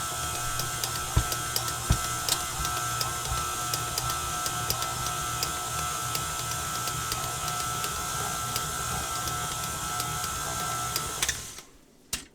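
A stand mixer runs steadily, mixing dough for homemade sandwich bread, a continuous even whir at moderate volume that stops abruptly near the end.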